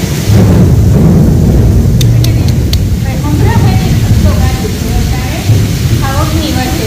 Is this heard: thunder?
yes